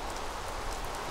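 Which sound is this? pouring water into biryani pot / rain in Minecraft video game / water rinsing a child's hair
rain in Minecraft video game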